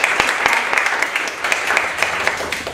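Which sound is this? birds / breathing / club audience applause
club audience applause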